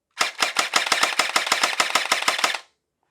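A Gel Blaster Surge pistol fires in single-shot mode, with about a dozen sharp, snappy shots in quick succession as fast as the trigger is pulled. Each shot is close and loud, with no talking.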